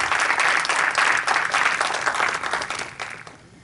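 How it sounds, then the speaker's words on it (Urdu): An audience at an Urdu literary evening claps warmly to welcome a poet to the stage, a dense, steady applause that holds for a few seconds and then gradually thins and fades. "زوردار تالیوں کے ساتھ ان کا استقبال بھی کیجیے اور حوصلہ افزائی"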